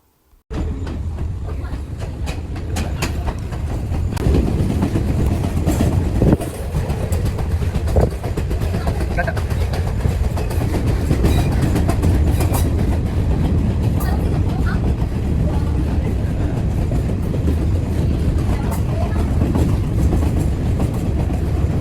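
A train on the line from Mihintale to Anuradhapura on a special Poson journey. Its steady rumble and clatter run loud and continuous for the whole stretch, with rail clicks heard from inside.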